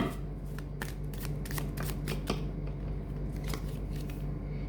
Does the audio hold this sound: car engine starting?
no